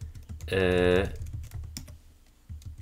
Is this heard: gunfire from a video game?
no